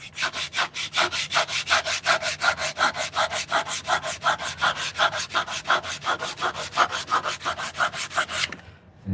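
Steady back-and-forth scraping of sandpaper on a hand-carved wooden mallet, about four strokes a second, close and rhythmic, stopping abruptly at the end.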